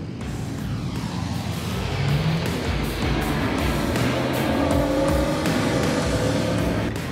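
Rally cars driving on a long white beach in Morocco, engines droning steadily with rising and falling revs, close and continuous throughout with no talk.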